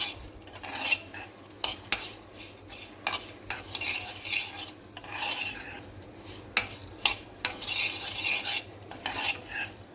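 Small wheat flour pieces fried in a pan are stirred briskly with a metal spoon, giving repeated scraping and clinking strokes over a faint sizzle, close and fairly quiet.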